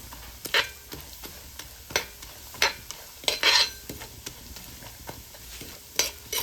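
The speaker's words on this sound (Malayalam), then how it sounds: "നന്നായിട്ട് ഇളക്കി കൊടുക്കാം കേട്ടോ." Food being stirred and fried in a pan for a Pesaha meal: a spoon scrapes and knocks against the pan in scattered strokes over a soft, steady sizzle, close up.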